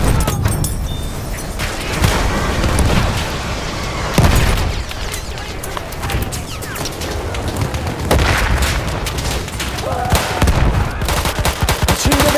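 Machine gun fire in the video game Battlefield 1 during a Conquest match in the Argonne forest: loud, rapid bursts of automatic gunfire layered with booming explosions and distant shots, dense and continuous throughout.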